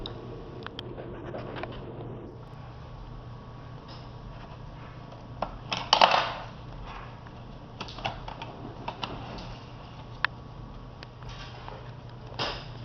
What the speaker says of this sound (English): pry them down and leave the screwdrivers in each tab to pop this off